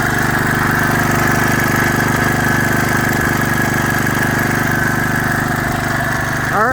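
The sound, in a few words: Kohler K91 small engine running after rebuild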